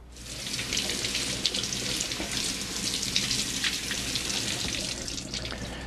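Tap water runs in a steady, full stream into a sink while a raw pork loin is rinsed after brining, a continuous close splashing rush with no speech.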